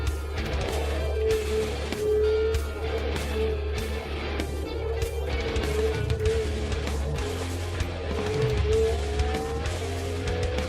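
Ferrari 550 engine roaring through gear shifts in a racing video game, with rising and falling revs and tire squeal, loud and continuous with no talking.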